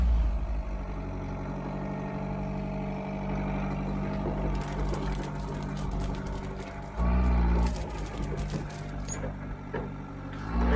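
Steady low engine rumble of a vehicle reversing slowly while towing an Ifor Williams GD84 trailer, with a brief heavier surge partway through and a burst of hissing, rattling noise in the latter half.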